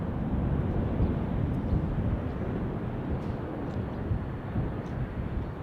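A Delta airliner on its takeoff roll at an airport produces a steady, loud, broadband jet engine roar that stays constant throughout.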